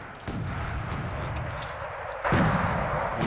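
Mortar fire in Wargame Red Dragon: a couple of dull booming thumps, with a louder, sharper blast near the end over a constant battlefield rumble.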